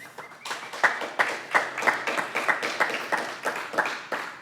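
A small audience claps for poet E.K. Keith at a poetry reading, a sparse round of hand claps of varied strength that keeps up steadily for several seconds, moderately near.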